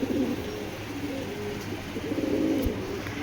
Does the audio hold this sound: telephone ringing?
no